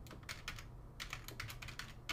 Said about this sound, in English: we could start typing it in